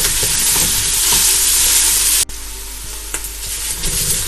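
Onions sizzle loudly in a pan for a Kochi-style pork vindaloo, a dense continuous frying hiss with a brief drop midway and occasional stirring clatter, close up and without speech.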